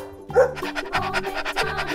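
A dog pants in quick, rhythmic bursts, close and fairly loud, with a few breathy whimpers mixed in and no talking.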